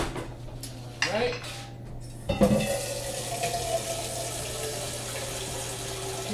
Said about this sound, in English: I'm gonna start the water for the pasta right away.